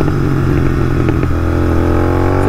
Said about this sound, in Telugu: సో గివ్ థ్రాటిల్, కొంచెం థ్రాటిల్ వదిలేయండి. సో పాప్స్ అండ్ బ్యాంగ్స్ అట్లా వస్తాయి బాయ్స్.